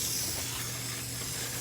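A garden hose sprays water onto orchid plants outdoors in a lush jungle-like setting, giving a steady, soft continuous hiss that holds at an even level throughout with no talking.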